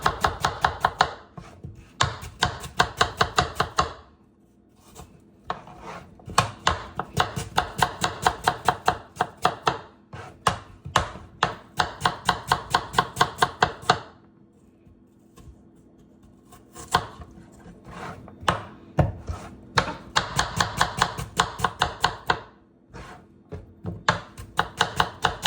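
Apples sliced thin for a simple apple pie, a knife tapping quickly on a cutting board in bursts of rapid, even chops separated by short pauses, close and fairly quiet with no voices.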